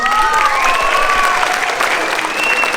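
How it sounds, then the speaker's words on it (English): A crowd at a company's 30th anniversary event claps and cheers loudly and continuously, with whoops and shouts rising over dense applause. "let's make some noise for Noura Homes!"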